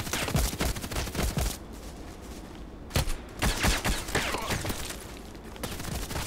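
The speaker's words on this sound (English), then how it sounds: "Somebody else shooting." Gunfire from the Contract Wars online shooter, with dense bursts of automatic shots and single cracks, a brief lull, then more volleys echoing at close to mid range, loud and sustained with no talking.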